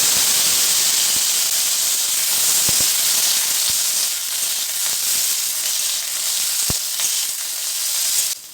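Washed, drained potato pieces frying in hot oil tempered with nigella seeds, a loud continuous sizzle with scattered sharp pops and crackles, alone with no voices.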